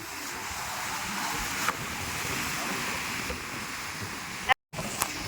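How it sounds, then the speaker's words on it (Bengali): Sea waves wash onto Digha beach in a steady roaring surf, mixed with gusty wind buffeting the microphone and a brief dropout near the end. "ঢেউগুলো কেমন?"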